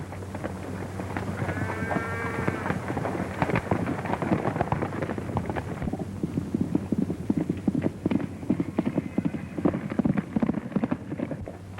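Horse hooves clip-clopping in a fast, irregular rhythm, loud and close, with shouts and a whinny briefly mixed in.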